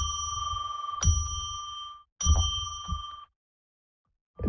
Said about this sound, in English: let's ring that bell that we usually do 3 times to declare sacred space